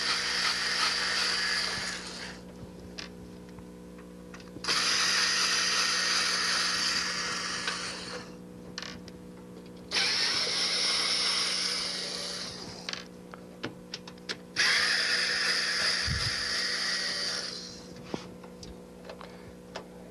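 A power screwdriver removes the screws holding the power supply in a 1990 desktop computer, whirring in four separate bursts of a few seconds each with light clicks and quiet gaps between, close and without speech.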